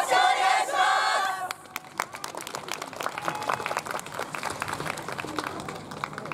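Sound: audience clapping along to festival dance performance

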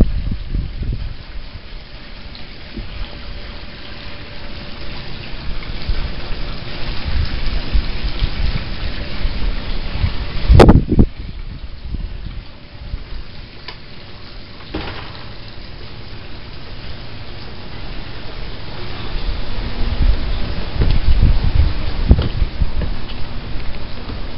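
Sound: rain falling, drizzling

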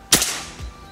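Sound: PCP FX airgun shot

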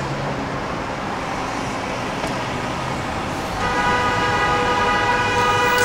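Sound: car horns honking in city traffic on Michigan Avenue

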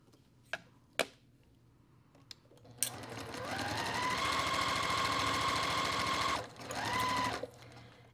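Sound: sewing machine stitching quilt block fabric

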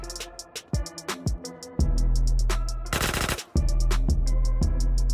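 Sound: gunfire destroying a vent grate in GTA San Andreas video game

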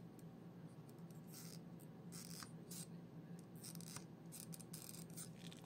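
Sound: cutting open an earphone driver

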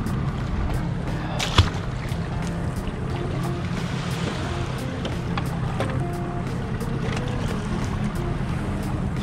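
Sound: boat with Minn Kota trolling motor on water

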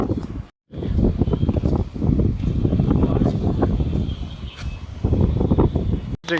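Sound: wind

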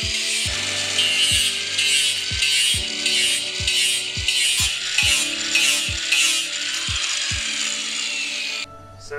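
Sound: angle grinder cutting slots in PVC pipe

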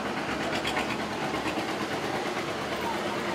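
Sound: vintage two-cylinder tractor engine running

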